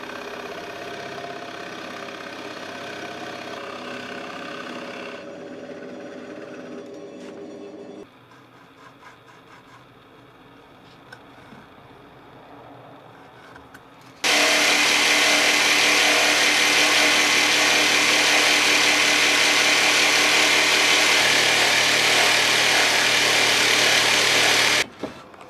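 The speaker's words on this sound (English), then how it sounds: "And then I connected these using a jigsaw." A jigsaw cuts hand holes between drilled holes in a wooden crate, the motor first running softly, then bursting into a loud continuous buzzing saw stroke for about ten seconds before stopping.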